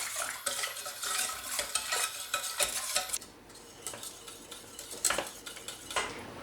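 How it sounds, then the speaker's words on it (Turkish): Spoon stirring a pudding mixture in a pot on the stove for a cherry layer cake, repeated scraping clinks and swishes in an irregular rhythm, close and fairly quiet, with brief pauses. "Sürekli karıştırarak muhallebi kıvamında pişireceğim."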